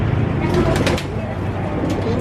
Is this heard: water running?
no